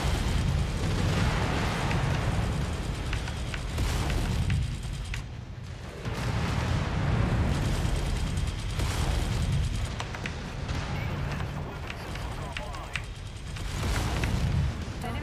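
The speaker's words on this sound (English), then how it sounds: "look at those missiles coming in" Incoming missiles explode in the MechWarrior 5 video game: a dense, continuous barrage of rumbling blasts and bursts, loud and close, with heavy low-end roar that swells and dips over several seconds.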